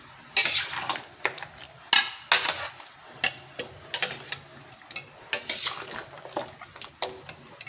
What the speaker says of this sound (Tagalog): Hirap haluin guys kasi malaki pa naman yung mga buto-buto niya.